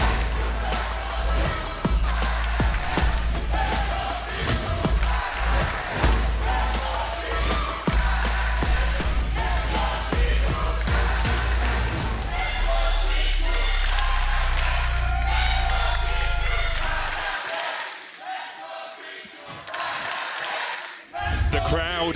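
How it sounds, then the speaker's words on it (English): Esports arena crowd cheering for Fnatic and G2 at an LEC Spring Split match, a loud, dense roar with clapping and bursts of shouting that swells and ebbs across the span before dropping away near the end. "The crowd taking turns to cheer on their teams"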